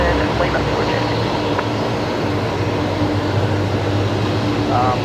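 Singapore Airlines Airbus A350-900 jet engines hum steadily at Brisbane Airport, a constant low rumble carrying through the whole stretch, with faint radio chatter and voices in the background.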